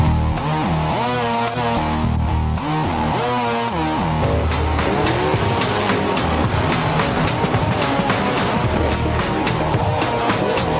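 Modified race cars thunder around Bowman Gray Stadium during a night race, a constant loud roar of engines with rising and falling pitches as cars pass, under continuous crowd and track noise.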